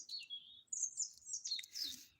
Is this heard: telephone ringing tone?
no